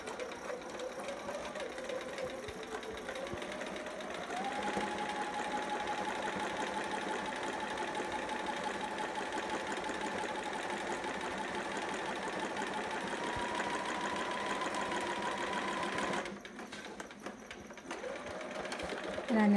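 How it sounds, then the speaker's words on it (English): A sewing machine straight-stitches a Riley long john sitter garment, humming steadily and moderately loud for a long stretch, with a brief pause before starting up again. "my needle is still over, and I'm gonna straight stitch"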